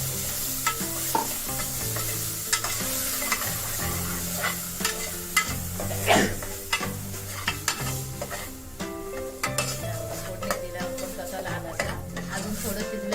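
Ground peas masala frying and being stirred in a pan in a Malvani Maharashtrian kitchen, a steady close sizzle broken by repeated scraping stirs and occasional clinks of the spoon against the pan.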